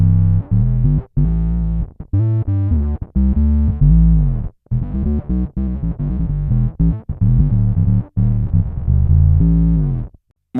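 Bass guitar run through a Darkglass Anagram on its cleanest preset, essentially just the octave pedal: loud, thick sub-heavy notes in choppy phrases with short gaps, no talking.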